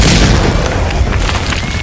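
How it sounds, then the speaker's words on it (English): A grenade goes off in one loud, sustained boom that fills the whole moment with heavy rumbling blast noise and fades slightly at the end. "How dare you throw a grenade at my husband?"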